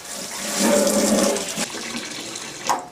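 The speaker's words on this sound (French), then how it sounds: "Maintenant, remplir la friteuse d'eau." Water poured into a deep fryer from a tap, a steady close gushing and splashing that swells, holds, then tapers with a final splash, no voices.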